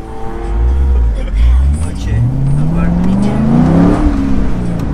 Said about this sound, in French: tout de suite, on part avec cette magnifique Corvette C6 pour cette belle journée